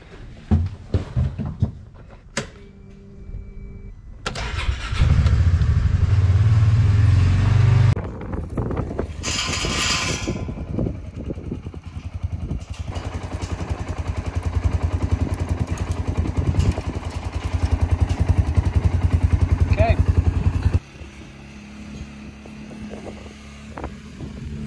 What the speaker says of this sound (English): I'm gonna pull it through there and then I can exit with the ATV down at the other end